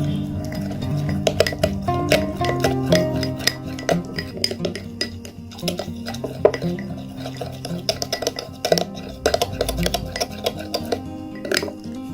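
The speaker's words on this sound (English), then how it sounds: "then we need to add 1 teaspoon of rice flour and mix well all the ingredients" A spoon stirring and scraping potato cream mixed with rice flour in a bowl, giving a steady run of close clinks and rubbing scrapes with an uneven rhythm, alone without talk.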